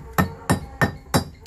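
A big hammer strikes stone edges to rough out a profile, four sharp, evenly spaced blows ringing close and loud.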